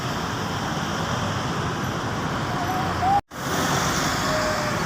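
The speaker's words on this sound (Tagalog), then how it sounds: "Itong nakikita ninyo mga sasakyan, yan yung papuntang Buhangin." Steady traffic rumble from vehicles heading toward Buhangin near the Maa flyover construction in Davao City, a continuous broadband roadway wash at moderate distance with a brief dropout partway through.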